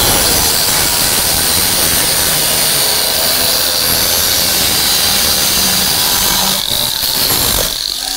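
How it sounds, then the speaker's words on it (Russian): An angle grinder from a 3-in-1 tool set cuts metal with a loud, continuous high whine and harsh grinding roar close to the microphone, tailing off at the end. "В комплекте вы получаете мощную, великолепную болгарку."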